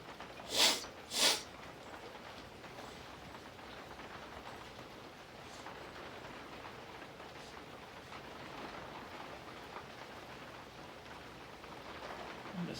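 Steady rain falls outdoors as a soft, continuous hiss throughout, with two brief sharp sniffs or snorts from a nearby person near the start.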